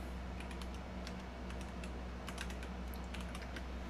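Faint computer keyboard typing in a room: scattered light clicks in short irregular runs, set low under steady background hiss and hum, no talking.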